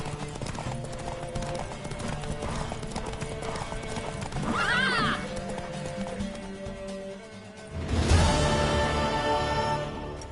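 Rapid hoofbeats of a galloping horse in The Witcher 3: Wild Hunt thunder throughout a horse race, with a loud whinny midway and a burst of heavier noise near the end.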